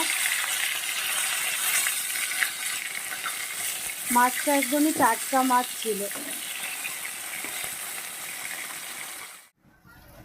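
Fish heads fry in oil in a home kitchen, a continuous crackling sizzle with a spell of speech over the middle, ending abruptly.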